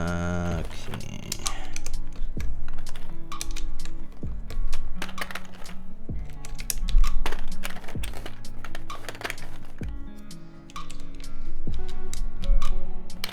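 Typing on a Geonworks F2-84 mechanical keyboard with GMK keycaps: fast, close, crisp clacks in irregular bursts with short pauses between runs, and no talking.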